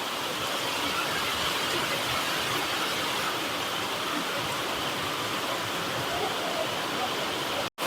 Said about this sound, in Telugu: చూడండి ఎలా ఉంది తిరుమలలో భారీ వర్షం.